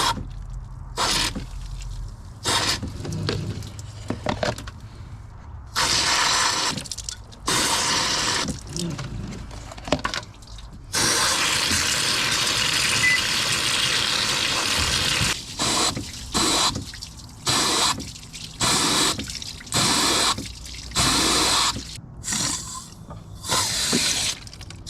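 Water back-flushes through the heater core of a Toyota Camry with weak passenger-side heat. It gushes and splashes in loud, uneven bursts that stop and start, with some longer steady stretches of rushing flow.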